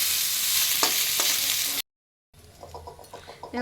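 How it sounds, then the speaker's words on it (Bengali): Vegetables sautéing in refined oil in a wok, a loud continuous sizzle that cuts off for a moment, then returns softer with rhythmic stirring scrapes. "এবার আমি এই সবজিগুলোকে দিয়ে দিচ্ছি, এগুলোকে একটু সতে করে নেব"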